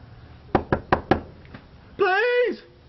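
Four sharp knocks on a door in quick succession, close and loud, followed by a brief pause and then a short sustained voiced sound.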